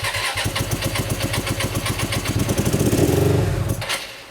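A Hyosung GT125RC motorcycle, back after two years and an ultrasonic carburetor cleaning, cranks and catches: rapid rhythmic chugging pulses build in strength, then settle into a sputtering, uneven idle close by, with no talk.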